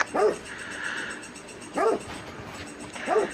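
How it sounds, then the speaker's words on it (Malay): A dog barks three times at a steady interval, fairly close, over a constant background hiss and hum, with no talk. "tiba-tiba ada dengar bunyi anjing"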